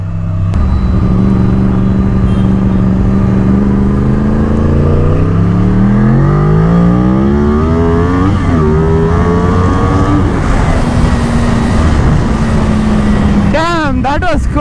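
A Yamaha R1 sport motorcycle revs up and accelerates hard, its engine note climbing steadily through the gears, loud and close throughout, with a sharp rising whine near the end.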